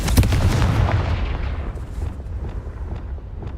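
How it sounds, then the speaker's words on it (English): Confringo fire spell exploding in Hogwarts Legacy: a heavy, loud boom bursts at once and then rolls off into a long rumbling tail over about three seconds, with no voices. "Confringo."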